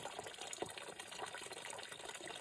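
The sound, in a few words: pond skimmer pushing water in goldfish pond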